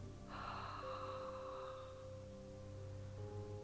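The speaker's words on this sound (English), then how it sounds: "I want us to do is I want us to do what I call a whispered ah." A whispered "ah" breathing exhale, a soft, airy, voiceless breath released steadily for a few seconds, close and quiet, as part of a diaphragmatic breathing exercise.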